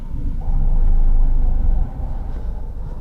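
Heavy traffic of many vehicles crawling near Araneta Center, a low continuous rumble of engines that swells briefly and settles, close and steady with no talk.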